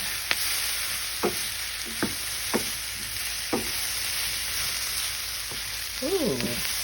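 Potatoes, mushrooms and onions sizzle softly in a skillet while a spatula scrapes and taps the pan in several separate strokes, with a brief squeaky scrape near the end.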